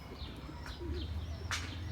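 A Mardin pigeon gives soft, brief coos and a few chirpy calls, close by and fairly faint over a low background hum, with no talking.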